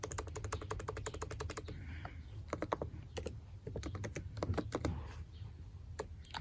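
Keys clatter on a computer keyboard in quick bursts of typing, close and fairly quiet, with short pauses between groups of keystrokes and no one speaking.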